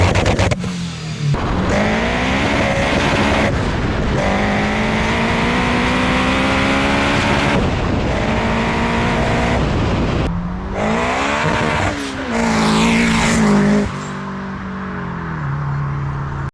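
A 500 bhp turbocharged K20-swapped Honda Civic EG revs hard and loud, its engine note sweeping up and down through repeated pulls, with brief gaps and crackling pops between bursts.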